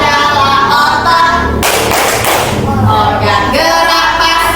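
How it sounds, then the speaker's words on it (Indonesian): Elementary classroom children clapping together in a rhythmic teacher-led clapping chant about the body's movement organs, with loud bursts of claps mixed with voices and a teacher chanting throughout. "Ayo sama-sama tepuk organ gerak."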